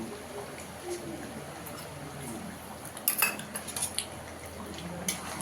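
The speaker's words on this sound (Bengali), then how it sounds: "ভালো করে মিশিয়ে নেব।" A spoon stirs a cardamom, cinnamon and black pepper spice mix into mutton in a pot, quiet scraping and a brief cluster of clinks against the metal, faint and close.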